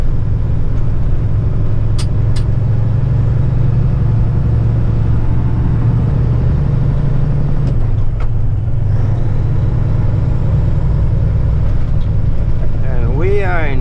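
Steady low car engine hum and road rumble while cruising in fifth gear on Michigan streets, continuous and close throughout, with a few faint clicks and a brief higher whine near the end.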